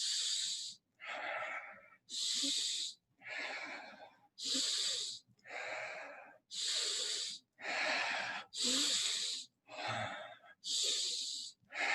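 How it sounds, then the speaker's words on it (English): Strong, full breaths during a guided breathing exercise: a steady rhythm of about a dozen forceful, airy inhales and exhales, each lasting roughly a second, close and loud with short gaps between. "A little stronger. Full inhale."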